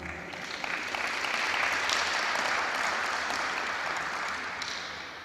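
An audience at a 2006 Bermuda poetry anthology event applauds a guest. The clapping is fairly faint and distant, a dense steady patter that builds and then slowly fades over several seconds.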